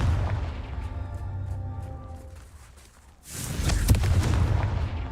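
A Confringo fire spell bursts in Hogwarts Legacy: a sustained rumbling roar gives way to a brief lull, then a loud booming explosion with crackling debris, heard alone with no talk.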